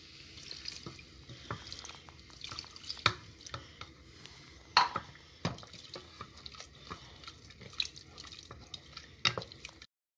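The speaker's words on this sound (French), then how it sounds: "Remuez-y pour y enlever les grumeaux." Water is stirred into a curry base to break up lumps, giving soft sloshing and splashing with scattered clinks and drips, fairly quiet and close, with no voices.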